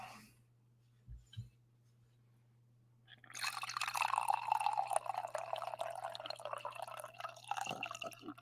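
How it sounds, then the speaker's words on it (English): Coffee pours into a cup, a few faint taps and then a sustained trickling, splashing stream with rising fill tones, close and alone over a low hum. "I want to do a coffee pour"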